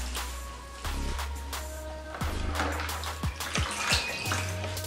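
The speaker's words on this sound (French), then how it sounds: "je vais maintenant enlever dans l'eau. Je mets le passoir pour éviter l'eau" Boiled greens draining through a colander in a kitchen, with hot water pouring and splashing steadily, clattering now and then against metal, close and fairly loud, with no voice.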